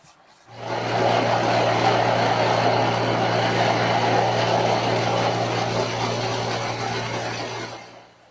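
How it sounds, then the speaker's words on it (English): A diesel engine drives a farm water well pump, starting up and then running with a steady, loud, even drone for about seven seconds before cutting off, with no one talking. "They run another well with a diesel engine."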